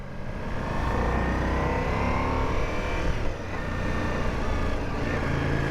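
A Harley-Davidson motorcycle engine running at an outdoor motorcycle meetup, a steady, dense low rumble held for several seconds with a slight dip midway, fairly loud and close.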